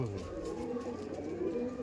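Punjabi pigeons, a male and a female, coo softly in low repeated rolling calls, close by and steady, with faint background noise.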